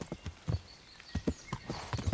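Horse hooves clip-clop at a steady walking pace in the medieval video game Kingdom Come: Deliverance, a run of distinct close hoof strikes with a brief pause in the middle, no talk over them.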